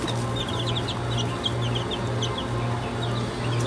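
Young domestic poultry in a pen at a country house in Canada peep in quick, high, scattered chirps, with occasional low clucks over a steady, pulsing hum in the background.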